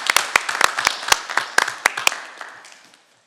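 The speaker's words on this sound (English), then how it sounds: "I want to give everybody a round of applause" A small group at a board meeting gives a short round of applause: sparse, crisp claps that start brisk and thin out, fading away over about three seconds, with no talking.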